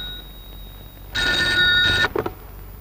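An old landline telephone rings indoors, one loud, steady burst of electric bell ringing that cuts off abruptly, followed by a brief clatter.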